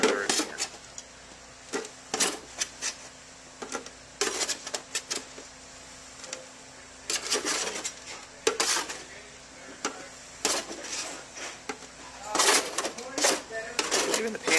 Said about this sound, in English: Giving the pan a little scrape so I can pull up anything that's stuck there.